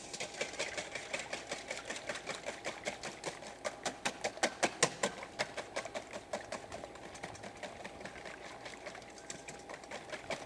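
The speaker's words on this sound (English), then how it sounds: "We're going to give it a little whisk." Whisk beating six eggs in a bowl for a herb frittata, a fast, even run of light tapping clicks that speeds up and stays steady for several seconds, close but fairly soft.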